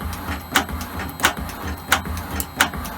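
An Elliot 10M metal shaper makes a slow final cutting pass on a metal block, with regular sharp ticks about every two-thirds of a second over a low, steady machine hum.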